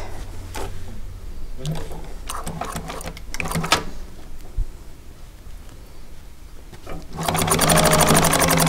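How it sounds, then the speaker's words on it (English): After some scattered handling clicks and shuffling, a sewing machine starts up near the end, stitching in a fast, even mechanical rattle. "Let's go ahead and sew the other end."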